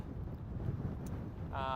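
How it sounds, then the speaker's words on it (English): Strong gusting wind buffets the microphone outdoors during rain on the west side of Skaha Lake near a wildfire on Christie Mountain, a fairly faint rumbling roar with a brief tonal whine near the end. "along with these strong gusting winds"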